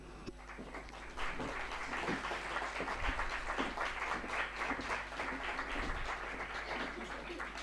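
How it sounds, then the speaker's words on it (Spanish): An audience applauds at a talk on fashion, a steady, moderately distant clapping that holds over several seconds against a constant low hum. "Un aplauso para ellas."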